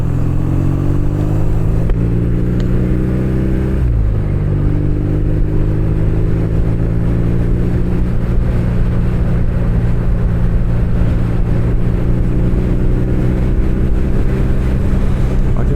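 A 2023 BMW R nineT motorcycle cruises along a foggy road on a commute, its boxer engine droning loudly and steadily with a brief dip and gear change before the drone picks back up, mixed with wind rush.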